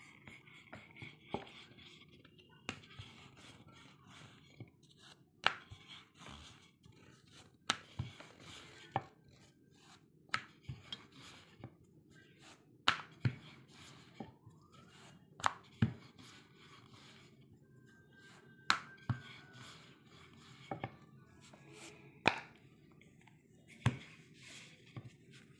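A knife cuts through rolled, colored dough for aparajita flower pitha, making a steady run of sharp, close taps against the board at an uneven pace, with no talking.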